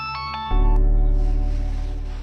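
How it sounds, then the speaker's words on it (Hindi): A mobile phone rings with an incoming call during a Hindi-dubbed Nepali action film, starting with brief tones and then switching to a loud, steady electronic ringtone that continues with no talk over it. "नाम लिया और फोन भी आ गया। चल फोन उठा।"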